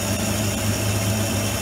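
A metal lathe taking a light cut in hard metal for a side channel blower part, a steady close mechanical hum with a constant low drone, no talking.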